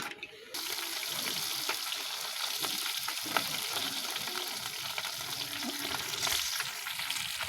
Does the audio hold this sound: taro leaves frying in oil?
yes